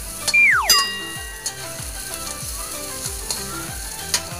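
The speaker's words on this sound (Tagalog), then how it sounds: "Halo-haloin mo para hindi manikit yung kawali." Onions fry in a kawali while being stirred by a child cooking corned beef, a steady close sizzle with a metallic clang at the start and regular scraping strokes of the spatula throughout.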